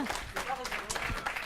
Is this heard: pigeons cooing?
no